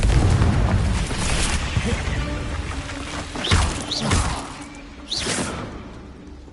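Confringo explosive spell blasts from the video game Hogwarts Legacy: several booming bursts with whooshing swishes, over a dense, rumbling game soundscape; faint speech is mixed in.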